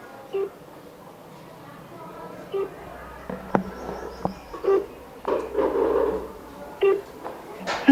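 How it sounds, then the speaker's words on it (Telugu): A phone call rings out unanswered, a few faint, spaced tones with brief clicks, while a voice talks intermittently over it. "ఆ కాల్ కూడా రింగ్ అవుతున్నప్పటికీ కూడా వాళ్ళు ఎలాంటి రెస్పాన్స్ అయితే ఇవ్వట్లేదు"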